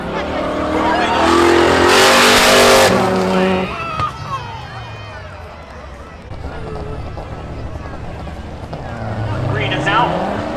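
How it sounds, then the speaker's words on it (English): Drag race cars at Seekonk Speedway spectator drags roar off the line, one of them a Subaru, with a loud engine burst early on that drops to a lower, rumbling drone as a commentator talks over it. "Green is out. Give the advantage off the stripe to Johnny Turbo in the Subaru."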